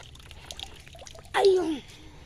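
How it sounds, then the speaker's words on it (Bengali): Water from a timed public tap trickles and drips into a bucket, a brief splashing pour swelling near the end over faint background noise. "এই যে এখানে হচ্ছে সে জল আসছে এখন আর টিপ টিপ টিপ টিপ করে পড়তেছে টাইম কলের জলটা"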